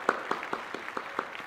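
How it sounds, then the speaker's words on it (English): Claps ring out in a luxury shoe shop after a purchase, about seven quick, evenly spaced hand claps from a few people nearby, fairly soft and with no talk. "Applause"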